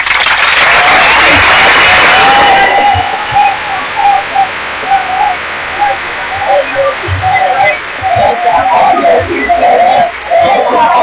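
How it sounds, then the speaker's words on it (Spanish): A university crowd at UAM gives big applause, loud for the first two to three seconds, then dies away under a speaking voice while cooing bird-like sounds float over the room. "Un aplauso grande y enorme para ustedes."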